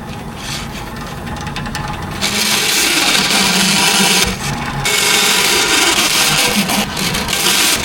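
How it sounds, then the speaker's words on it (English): A bandsaw cuts out a metal part for a 1973 Chevrolet C10 rust repair, giving a loud, steady rasping hiss that swells after a lighter start and dips briefly mid-cut. No one talks. "So I'll take that over to the bandsaw and cut it out."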